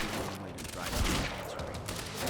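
Dense, continuous gunfire in Quantum Break, a steady loud barrage of overlapping shots with no clear pauses over a couple of seconds.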